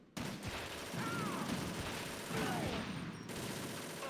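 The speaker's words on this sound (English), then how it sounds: "they're both having like gunfire and alerts going off" Video game gunfire from Metal Gear Solid 2 during a very easy league match: dense, continuous bursts of shots, with alarm-like tones sweeping through, loud and steady across the whole stretch.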